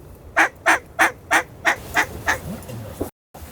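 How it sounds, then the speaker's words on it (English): Ducks calling in flight overhead during a windy duck hunt, a run of seven loud, evenly spaced honking calls that gradually fade, then stop abruptly. "there's just hundreds of ducks in the air at a time"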